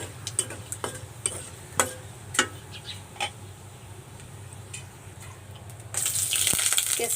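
In a cumin-scented pan of hot oil for a cauliflower and lentil dish, scattered clinks and stirring taps come first, then chopped vegetables drop in and a loud, steady sizzle bursts up and continues.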